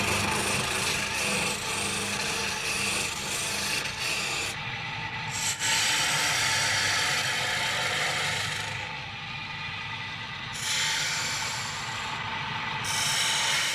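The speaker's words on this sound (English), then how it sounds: "The metal parts are filed down and sanded, so no rough particles remain that could snag the spinning wool." Metal parts of a handmade Irish spinning wheel are filed and sanded, giving continuous rasping, rubbing strokes that swell and ease in long passes with no talking.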